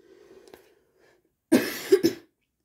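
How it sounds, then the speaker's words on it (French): A sick person gives a harsh cough, a close burst followed by two quick rougher hacks, after a moment of faint low murmur. "je suis malade, je tousse."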